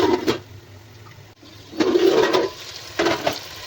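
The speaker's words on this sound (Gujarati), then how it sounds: "હવે મિત્રોમાં જરૂર પ્રમાણે નાખ્યું પાણી." Water poured into a spiced fish curry gravy gushes loudly and close, rising in two or three rushing surges like a flush, with no voices over it.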